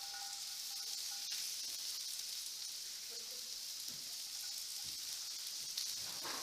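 Carrots sizzling in a hot stir-fry pan alongside other vegetables, a continuous bright hiss close by, fairly quiet overall with faint clinks and scrapes and no voices.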